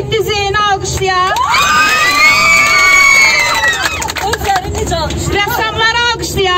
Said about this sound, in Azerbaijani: Tələbələrimiz var, onları alqışlayaq.